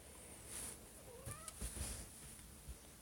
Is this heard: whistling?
no